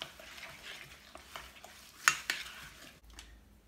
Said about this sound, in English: So I'm just gonna mix all this together.